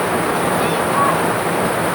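Steady, loud rushing of a flooded river sweeping a car downstream after a wall collapses, a continuous broadband roar of turbulent water with no distinct breaks.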